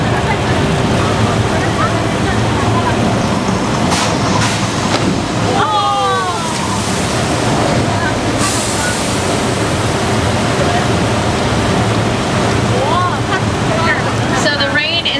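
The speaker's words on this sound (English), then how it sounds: "The flood is the result of thousands of gallons of water held up in a special tank at the top of the hill." A simulated flood on the Universal Studios Hollywood tram tour, thousands of gallons released from a hillside tank, makes a loud, continuous rushing roar of water that runs throughout, with voices and shouts over it.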